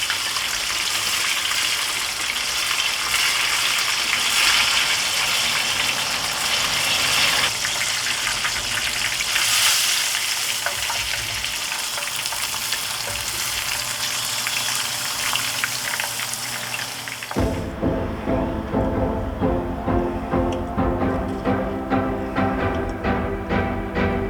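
Whole catfish frying in hot oil, a steady dense hiss and bubbling that runs continuously, shifting to a crackling, rhythmic sizzle near the end after the fish is flipped.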